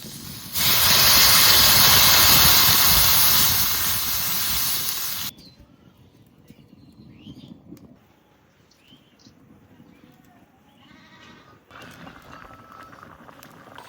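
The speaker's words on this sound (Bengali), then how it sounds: "সব কিছু দিয়ে আলু একটু ভেজে নিয়েছি, এবার জল দিয়ে দেবো।" Water pours into a hot pan of fried potatoes, setting off a loud, sharp sizzling hiss that lasts several seconds, then cuts to a quiet, faint simmer with light background noise.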